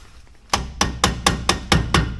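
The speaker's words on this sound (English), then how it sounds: "Hammer." A hammer strikes metal in a workshop during repairs on a Jeep XJ. Seven sharp, loud, close blows fall in a quick, even rhythm after a brief quiet start.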